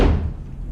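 The door of a Ford Anglia under frame repair in a home garage pops out of its frame with a single dull thunk up close, the low boom decaying quickly with no voices over it.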